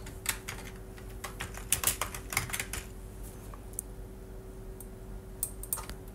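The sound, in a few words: typing on a computer keyboard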